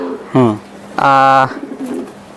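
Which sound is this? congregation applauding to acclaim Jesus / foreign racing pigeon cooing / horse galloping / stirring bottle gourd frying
foreign racing pigeon cooing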